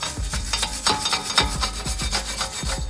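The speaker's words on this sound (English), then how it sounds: "Use a wire brush before you putting a rotor on this hub." A wire brush scrubs rust off the front brake hub of an Acura TL, making steady, rhythmic rasping strokes close up with no voices.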